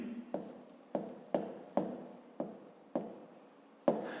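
Marker or chalk strokes writing a 5th-grade maths solution, about eight crisp taps each followed by a short scratch, evenly spaced and close, without speech.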